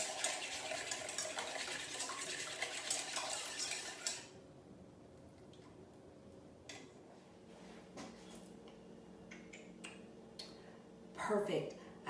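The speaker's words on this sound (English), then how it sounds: "There's our quick whisk." A whisk beats French toast custard in a bowl, a dense rapid scraping and clinking that runs loud for about four seconds, then drops to faint scattered clinks and a short burst of utensil noise near the end.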